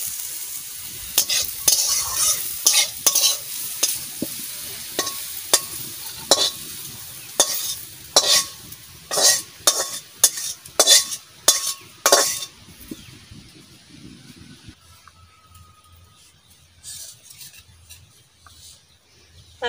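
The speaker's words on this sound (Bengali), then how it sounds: "পাপিতা ভাজা আর মাছ ভাজা।" Papaya and fish frying in a pan while being stirred, the sizzle running under repeated sharp scrapes and clinks of a utensil against the pan, busy for about twelve seconds before fading to a quiet low hum.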